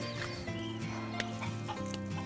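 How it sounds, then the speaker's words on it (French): A hen that loves strawberries clucks close by in a garden. Short, repeated clucks and calls sit over a steady low background. "Une poule qui adore les fraises."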